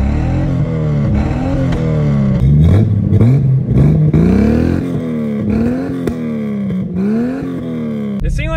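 A car engine running on a vodka and gasoline mix revs up and down several times, rising and falling in smooth sweeps from a steady idle. The revving is close and loud, and no voices are heard.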